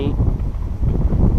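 Stormy wind gusts across the microphone beside a golf-course pond during fly fishing, a loud, low, buffeting rumble that surges and dips throughout.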